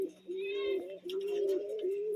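A female pigeon coos in a loft, two drawn-out throaty coos in succession, close and clear with little else around.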